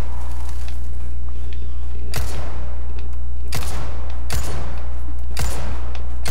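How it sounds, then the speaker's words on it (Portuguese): Repeated loud gunshots fired at crows in a video game, four or five sharp blasts spaced about a second apart over a constant low hum. "bem na hora que fui usar a arma pra meter o tiro nos corvos."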